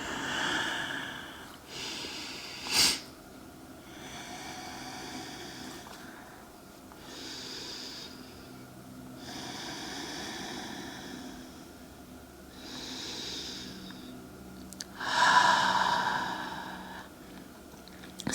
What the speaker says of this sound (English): Another couple breaths right here.